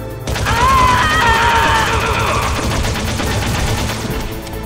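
Gunfire in Metal Gear Solid rattles in a dense, loud burst, sustained for several seconds with a brief whine over it.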